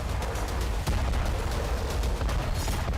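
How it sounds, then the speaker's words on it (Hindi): Rapid series of explosions during a missile attack on the Dnipro hydroelectric power plant, a dense, continuous roar of blasts with a sharp crack near the middle, loud and rumbling throughout. "दूसरा धमाका"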